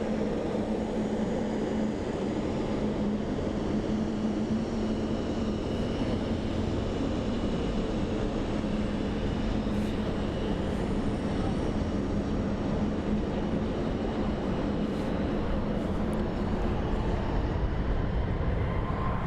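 A TUI Boeing 737 MAX 8 airliner at Frankfurt Airport, close by, giving a loud, continuous roar and whine of jet engines that holds steady for the full length with no pauses.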